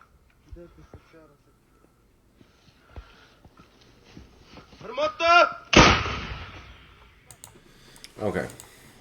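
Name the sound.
artillery fire in played war video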